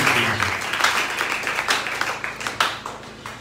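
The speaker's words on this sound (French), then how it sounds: "Acclamons pour la gloire." A church congregation applauds during a French-language sermon, a dense crowd of clapping hands that swells and stays steady for a few seconds, loud and close, with no talk over it.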